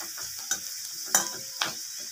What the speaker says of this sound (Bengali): এই যে পেঁয়াজ লাল হয়ে গেছে, মশলাটা দিয়ে দিলাম, আদা রসুন জিরা লঙ্কা পেঁয়াজ বাটা